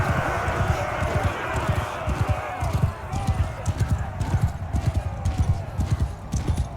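Horse hooves gallop in a rapid, steady clip-clop rhythm as a mounted unit rides in Mount & Blade II: Bannerlord, loud and close with continuous rumbling behind the beats.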